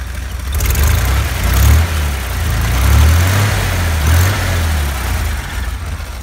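Dauntless 225 V6 engine in a Jeep CJ5 idling close by, a steady low rumble with slight rises and dips in revs, loud and alone without voices.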